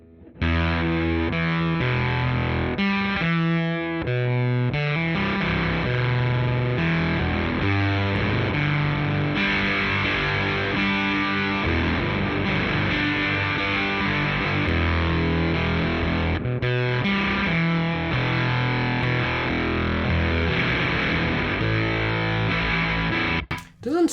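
Electric guitar played through a Behringer SF300 fuzz pedal with the gain at minimum, a fuzzy distorted tone running steadily throughout with chords and single-note runs, loud and continuous.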